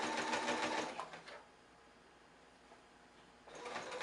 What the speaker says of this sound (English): you want to back stitch here again